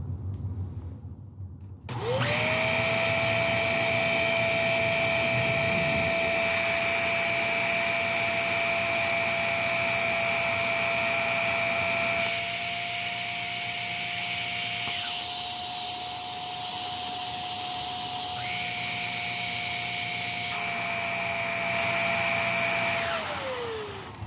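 A Shark NV750W vacuum cleaner with all filters in switches on after a short pause and runs as a loud, steady whine, its pitch and tone shifting slightly as settings step up to highest suction, then winds down at the end.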